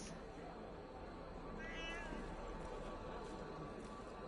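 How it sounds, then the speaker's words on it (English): A cat in the video game Assassin's Creed Unity lets out a single short meow partway through, fairly faint against a steady wash of in-game ambient noise. "I hear you, cat."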